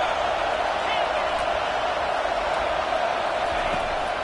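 Roaring stadium crowd in a college football video game, a steady dense wall of cheering that swells as the defense lines up on third down, with no pauses and no clear voices.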